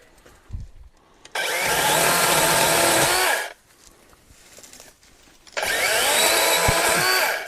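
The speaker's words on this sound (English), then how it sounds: "This is definitely a different sensation using a battery operated chainsaw" Two loud bursts of a battery-powered chainsaw running at full speed, each lasting about two seconds, separated by a short quieter pause. The cutting whine is steady and harsh, close to the listener, and no one speaks over it.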